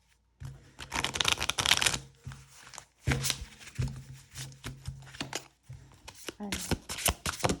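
Tarot cards are shuffled close up in long riffling bursts and quick rustling flicks with brief pauses between them, loud and crisp. A voice speaks over part of the shuffling.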